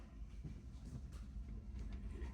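A train rumbles past at a distance, a faint, steady low roar with a soft rolling texture throughout.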